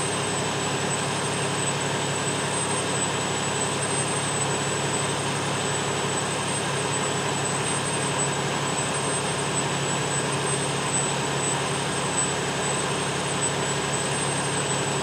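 A constant, even engine hum idles on without change, a steady drone with a faint high whine and no other sounds.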